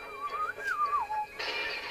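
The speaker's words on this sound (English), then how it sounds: "Engage innocent whistle mode." A person whistles innocently in a casual game-show setting: a short, wavering melodic tune, close and clear, that ends abruptly and gives way to a burst of hiss-like noise.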